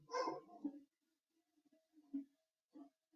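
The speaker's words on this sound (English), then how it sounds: "Why are you barking up there?" A few soft, muffled barks from a pit bull somewhere nearby, spaced apart with quiet gaps between them.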